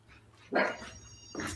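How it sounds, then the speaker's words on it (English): A dog indoors gives two sharp barks about a second apart, fairly close and loud, with some room echo. "dog's about to go berserk"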